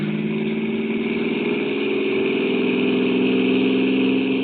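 A car engine revving up, heard close and loud as a steady droning hum whose pitch climbs slowly over a few seconds, with no voices.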